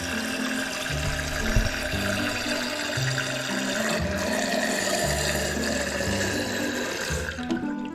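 Toilet tank refilling through a newly replaced fill valve, a continuous hissing rush of water running steadily at close range, without talk.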